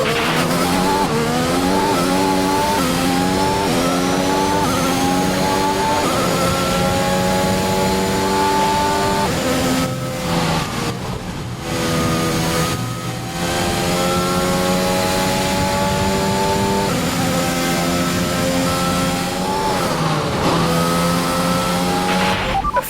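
A Formula 1 race car in the F1 2021 video game revs hard through rising gear-by-gear engine whines, loud and close, with brief dips at shifts and steady high-pitched howl throughout.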